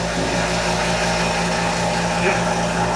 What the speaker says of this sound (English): it's pumping air out of this dome.